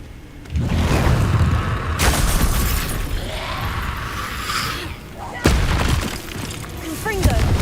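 Confringo fire spell blasts in Hogwarts Legacy, several loud booming explosions with sharp onsets and crackling tails, striking in quick succession with game effects layered between them.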